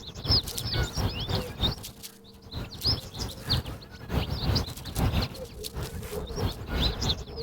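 Chirps and short bird calls repeat in irregular bursts over a soft background, with a brief quieter gap partway through.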